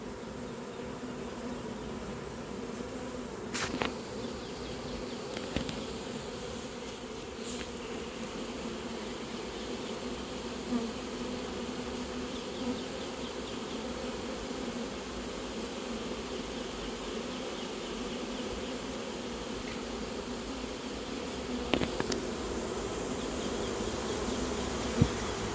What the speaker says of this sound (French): Il me reste un carton avec des abeilles.